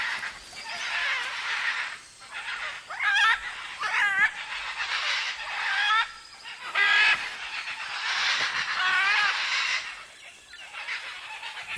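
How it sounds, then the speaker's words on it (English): Young macaws squabble in palm trees at nightfall, harsh raucous squawks and screeches overlapping in bursts, several birds calling close and loud for the whole stretch. "The young, non-breeding pairs and adolescent birds gather and playfully squabble in the palm trees"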